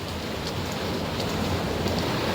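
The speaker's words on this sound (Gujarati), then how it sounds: "નાળે કેટલું બધું પાણી જાય છે" A village stream swollen after heavy rain rushes over a channel, producing a loud, continuous broadband roar of flowing water, steady throughout without talk.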